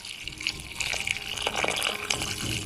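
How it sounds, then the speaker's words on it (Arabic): Water poured into a cooking pot of Baghdadi-style pacha, a steady gushing splash with bursts of stronger flow, close and fairly loud. "هسه هذا المي قليل، راح اضيف له بعد اني مي، يعني اخليه يغطي هالباكة تمام."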